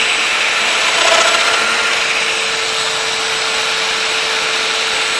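A 5 mm cutter plunges 15 mm deep into wood to cut a domino hole for a lathe cart top, giving a loud, steady power-tool whir with a slight swell near the start, and no speech.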